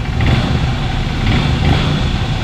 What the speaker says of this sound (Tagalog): So guys, so umaandar na yan. Pakinggan niyo yung kanyang makina.